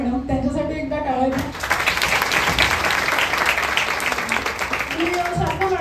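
A room applauds for a college principal at a PhD felicitation ceremony. Someone speaks, then clapping breaks out, loud and dense, lasting about four seconds before her voice returns.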